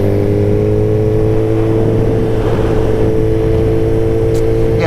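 A Suzuki GSX-R1000R sport bike idles loud and close with a steady engine drone, briefly swelling in a mild rev midway before settling back to a constant throb.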